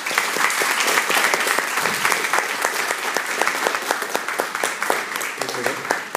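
A book-launch audience gives steady, full applause, dense overlapping claps filling the room from start to finish with no one speaking over it.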